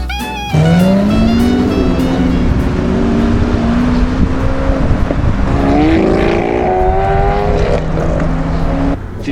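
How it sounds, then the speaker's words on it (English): A Lamborghini engine revs hard in traffic, its loud rising tone climbing steadily, then dropping and climbing again with a second surge, close by and dominating throughout. "Did you hear the Lamborghini?"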